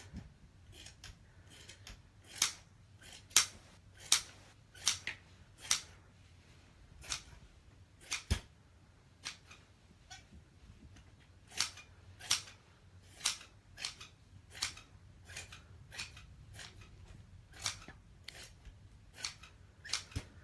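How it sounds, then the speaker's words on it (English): Scissors snip a yarn tail while a Boye Pom Pom Tassel Maker is in use, giving about two dozen crisp close cuts in an uneven rhythm with short pauses and no talking. "I'm just going to trim"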